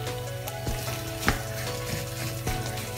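Pav bhaji vegetables frying in a pan make a steady, fairly loud sizzle and bubbling throughout, with a few light knocks of the utensil against the pan and no voices.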